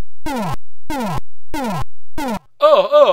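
Synthesized C64 sound effects from Death Wish 3 as the Charles Bronson character is attacked: four identical short, loud falling-pitch electronic bursts at a steady rhythm, then a harsher warbling noise burst.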